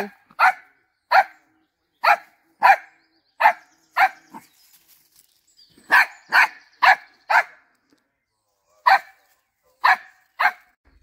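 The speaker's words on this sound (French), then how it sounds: "il y a des chiens avec des poules" Dogs kept with chickens bark in short, sharp bursts, mostly in pairs with brief pauses between, fairly close and otherwise quiet, at Conques, France.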